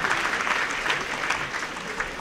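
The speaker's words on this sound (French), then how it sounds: "Sous vos applaudissements" Steady applause from a crowd greets the Sainte-Bernadette majorettes at a school festival, a dense, continuous wash of many hands clapping at moderate loudness without a break.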